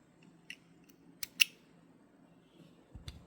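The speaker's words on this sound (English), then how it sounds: "And now we can cut the tail" Scissors snip the thread tail of a brick-stitch beaded earring, two or three short, crisp clicks close by in an otherwise quiet room, followed by a soft knock.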